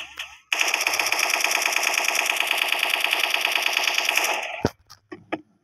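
Sustained automatic gunfire from the Special Force 2 shooter game, a loud rapid burst lasting about four seconds, then a sharp single shot and a few scattered bangs as it trails off.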